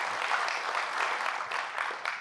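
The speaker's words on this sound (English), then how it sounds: "I want to give them all a big round of applause for investing and working in Long Beach and our community." An audience applauds at a civic community presentation in Long Beach, giving a soft, steady wash of clapping with a few louder bursts near the end.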